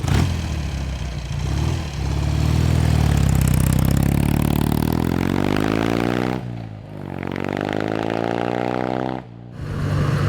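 Barn-find BSA Golden Flash motorcycle engine idling close by with a steady, loud low throb that dips briefly twice, the pitch sagging and recovering each time.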